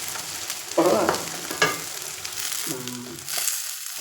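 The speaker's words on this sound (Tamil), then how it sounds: "அந்த சாந்தை அதோட போட்டு அதையும் சேர்த்து வதக்கிடலாம்" Roasted ground spice paste sautéed with chicken in a pan makes a steady frying sizzle, broken by a couple of scraping stirs and a sharp clatter, with a brief spoken word.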